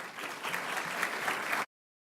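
Audience applause for students at a board of education meeting, a steady round of clapping from a room of people that holds evenly, then cuts off abruptly.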